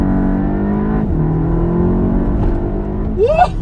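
Golf 7 GTI TCR with a stage 1 APR tune, about 370 horsepower, revving hard nearby, a loud steady engine drone with a brief dip, then a quick rising rev that swells near the end.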